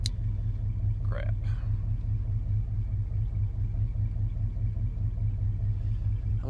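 A car engine idles in drive with a dull low rumble that holds steady and close, while a voice speaks briefly over it near the start.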